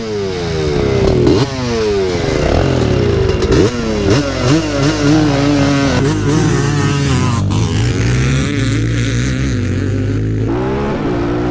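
A Yamaha Raptor 700 and a Predator 560 quad drag race, their engines revving hard and loud throughout, with rising and falling pitch as they accelerate and shift, close and continuous with clattering mechanical noise.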